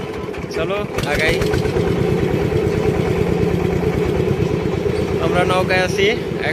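A motor boat engine thuds steadily and loud on the Padma river, its rapid clattering pulse running throughout while people talk over it.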